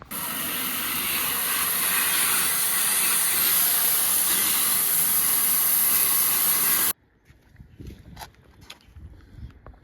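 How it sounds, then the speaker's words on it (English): A garden hose sprays water onto a car in a loud, steady hiss close by for about seven seconds, then cuts off, leaving only faint scattered handling noises. "I'm going to chuck the hose pipe on."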